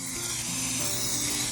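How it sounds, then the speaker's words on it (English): Cooking oil sprays in a continuous hissing burst into an 8x8 baking pan, close and steady for its brief duration. "we are spraying it with some cooking oil"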